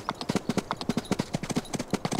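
Horse hooves gallop in Farming Simulator 19, a fast, even clip-clop of sharp strikes repeating steadily throughout, loud and close, with no talk over it.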